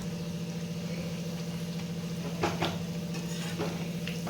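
Peanuts stirred as they fry in a pan over a steady low hum, with a few scraping strokes of the spoon in the middle and near the end, close and moderately loud.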